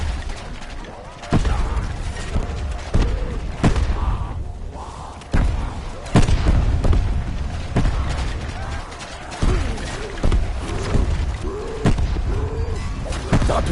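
Repeated explosions in the video game Shovel Knight, sharp booming blasts and thuds landing at irregular intervals over a busy bed of game effects and music, loud and punchy throughout.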